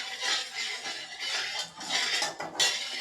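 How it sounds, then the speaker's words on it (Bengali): Metal spatula scraping and clinking around a wok while swirling heated oil before frying sonabogo river fish, a few soft rhythmic scrapes in quick succession, close and fairly quiet with no talking. "তেলটাকে ভালো করে গরম করে নেব, আর কড়ার চতুর্দিকে তেলটাকে একটু নেড়ে নেব,"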